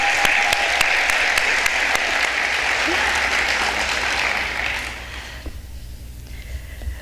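An evening awards-ceremony audience at the Bermuda Arts Council Awards 2023 applauds awardee Lana Young: loud, dense, sustained clapping fills the hall for about five seconds, then thins out and fades.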